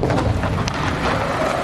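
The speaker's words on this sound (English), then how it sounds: "That's the sound of a mortar coming in from Gaza." An incoming mortar fired from Gaza registers as a dull low rumble under a broad wash of outdoor noise, a brief muffled impact-like swell within a steady noisy background, no speech.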